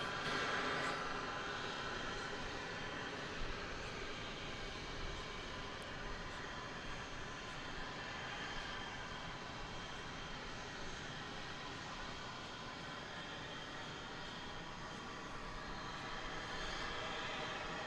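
United Airlines Flight 1586 to Denver takes off from DFW Airport in the early morning, a faint, distant jet roar holding steady and continuous throughout.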